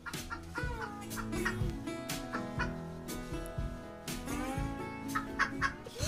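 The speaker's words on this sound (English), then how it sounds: "Look at that chicken go." Chickens cluck in a video game over a busy layer of music and game sound, with dense, repeated bird calls running steadily through the whole stretch.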